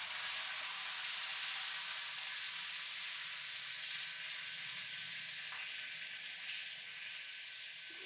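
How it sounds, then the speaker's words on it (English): A lion's mane mushroom steak fries in avocado oil in a cast iron pan over medium heat, giving a steady, close sizzle with a hissing, crackling texture that runs unbroken throughout and has no talk over it. "On a cast iron over medium heat, cook for about 3 minutes with the avocado oil."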